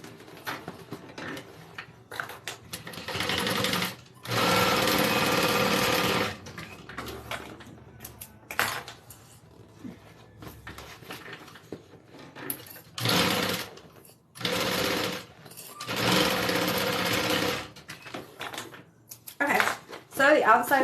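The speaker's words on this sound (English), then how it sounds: "We're going to sew those in place." Sewing machine stitching the sides of a leather wallet to its bottom, running in several bursts of steady mechanical whirring separated by pauses, with speech between runs.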